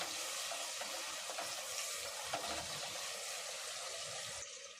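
Sliced onions for biryani fry in a pan with a continuous soft sizzle and crackle, steady and close, with no voices.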